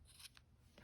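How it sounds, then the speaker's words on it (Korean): Scissors snip off leftover yarn while finishing the top of a knitted wool beanie. There is one quick, faint cut, close by, in an otherwise quiet room with no talking. "실이 어느 정도 남으셨다면 적당한 길이만 남기고 잘라주세요."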